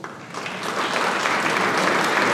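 Audience applause at a community event, steady clapping from many hands that swells slightly and holds, fairly loud and close, with no talk over it.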